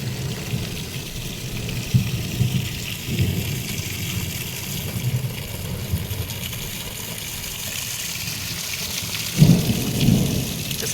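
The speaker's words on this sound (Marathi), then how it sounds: "इजाच्या कडकडात मित्रांनो लय पाऊस म्हणजे लय पाऊस चालू होता" Steady heavy rain pours down on a farm settlement in Manegaon, Madha taluka, with low rumbles of thunder rolling through, and a louder thunderclap near the end.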